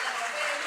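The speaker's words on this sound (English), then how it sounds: "Let's give them a round of applause" Conference audience at a services forum in Buenos Aires applauding panelists, a dense continuous round of clapping from a large room, sustained evenly with faint voices underneath.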